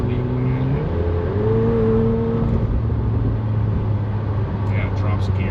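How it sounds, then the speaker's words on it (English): A 2024 McLaren 750S engine drops rapidly from sixth to third gear, the revs rising in quick stepped blips above a loud steady drone, heard from inside the car with a voice talking over it. "it drops gears from, 6 to 3rd and"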